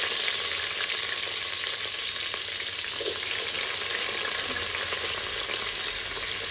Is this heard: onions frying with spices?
yes